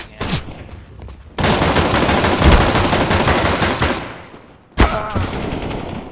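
Automatic gunfire in the video game CS:GO comes in rapid, sustained bursts: a short shot, then a long roaring volley, then another sharp burst, loud and close.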